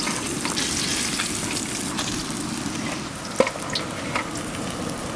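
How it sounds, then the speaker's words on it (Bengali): Potatoes fry in hot oil with salt, a thick, constant bubbling sizzle close up with one sharp click partway through and no voices. "লবণ, আলুগুলো একটু সময় নিয়ে ভালো করে ভেজে নেব।"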